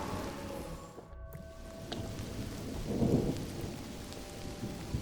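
Steady rain patters under a low rumble of thunder in the fantasy management game Mind Over Magic, with a brief sharp crackle and a swelling rumble, all fairly faint.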